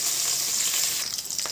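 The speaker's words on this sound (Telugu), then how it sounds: "అవి చిటపట అనేలోపు మనం ఉల్లిగడ్డ, పచ్చిమిర్చి, కళ్యామాకు అన్నీ కలిపి ఒకేసారి వేసుకోవాలి." Onion, green chili and curry leaves frying in hot tempering oil for mango dal, a bright, dense crackling sizzle that stays steady, close, with a few brief spits near the end.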